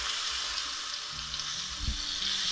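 A ribeye steak on a stovetop grill pan gives a steady, fairly close sizzle with a bright crackling hiss, and faint low clatter underneath.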